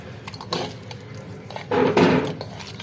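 Boal fish pieces being mixed by hand with turmeric, chili powder and salt in a metal bowl, giving soft wet squelches and scattered clinks, with a louder stretch of mixing near the end; no talk.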